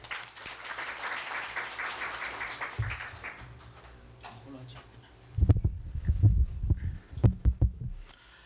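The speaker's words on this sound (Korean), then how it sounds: "박수로 환영해 주십시오" Audience applause welcoming a professor at a Korea University event, a dense wash of clapping for about five seconds that fades, followed by a closer burst of low thumps and handling noise.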